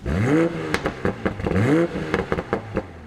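The 3-liter inline six-cylinder engine of a 2020 Toyota GR Supra revs up twice in quick succession, rising in pitch each time, loud and close, with clattering in between.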